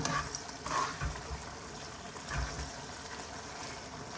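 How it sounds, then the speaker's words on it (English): Puttanesca sauce with olives and capers bubbles and sizzles softly in a pan, a faint, steady hiss with occasional light pops, alone and close. "you see how it's simmering all around the edges here?"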